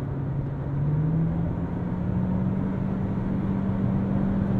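Toyota Corolla Cross Hybrid with a CVT drones steadily while driving, a constant low engine tone holding one pitch that rises slightly as it settles, with road noise underneath, loud and continuous with no gear changes.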